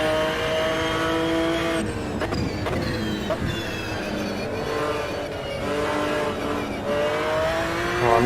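A McLaren race car engine in the Automobilista 2 sim racing game howls steadily and loudly throughout, with pitch rising and falling through gear changes and a few sharp shifts while the tyres are being warmed.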